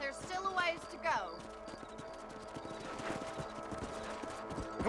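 Galloping horses in the video game Red Dead Redemption, a rhythmic clip-clop of hooves running under in-game voices and music.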